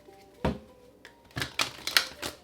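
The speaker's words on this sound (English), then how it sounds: "Let's get 2 more shuffles." Several short crisp riffling bursts of cards being shuffled, close up, with brief pauses between them and no talking.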